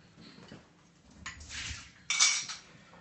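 Metal spoons clink and scrape against cups while foam is skimmed during a coffee cupping session, with two brighter bursts of light clattering, close and fairly quiet.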